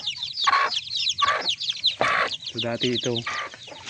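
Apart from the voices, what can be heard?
hen with chicks clucking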